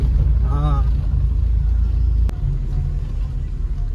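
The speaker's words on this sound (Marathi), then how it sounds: "सो आम्ही गाडी इथे फिरवतोय आणि स्कूल समोर लावतो" A car's low engine rumble fills the clip as it drives and turns, with a short voice near the start and a sharp click midway.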